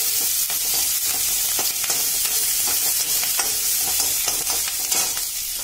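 Grated ginger and three green chilies fry in a pan for paneer stuffed chila, a steady close sizzle broken by repeated scrapes and stirs of a spoon, with no talking.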